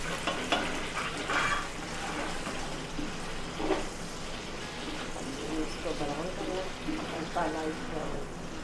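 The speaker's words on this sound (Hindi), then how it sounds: "अब हम इसमें डालने लगे हैं प्याज।" Steady sizzling of onions frying in a hot pot of yakhni, with occasional stirring clatter, continuous and moderately loud throughout.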